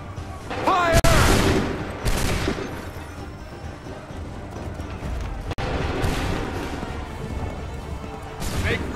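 Musket volley fire in the video game Assassin's Creed 3, a sharp burst of massed gunshots followed by crackling, rumbling battlefield noise and scattered further shots throughout.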